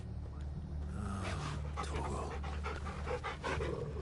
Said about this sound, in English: I can pet my dog here.